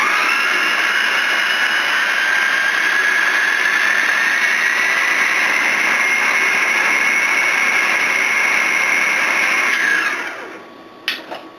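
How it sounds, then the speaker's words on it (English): A food processor whirring loudly and steadily for about ten seconds, its pitch rising slightly as the blade spins up, then winding down and clicking off. "I don't think I need the food processor anymore."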